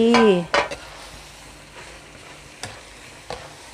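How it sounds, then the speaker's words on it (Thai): Cabbage stir-fried with chicken and glass noodles in a pan, a quiet sizzle broken by a few scraping utensil strokes against the metal, one brief voice sounding at the start. "กระหล่ำปีสุกง่าย ผัดให้เข้ากันเลยค่ะ"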